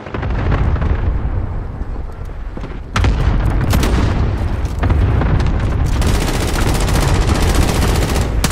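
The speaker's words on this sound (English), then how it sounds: "Friendly cluster strike inbound." Cluster strike in Call of Duty: Modern Warfare, a loud, dense barrage of rapid explosions with rattling gunfire mixed in, surging again halfway through and continuing without pause.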